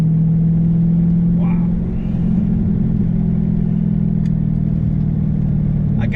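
Steady low engine drone from a Dodge Charger Scat Pack under acceleration, a strong continuous rumble heard from inside the car with a slight shift in tone midway.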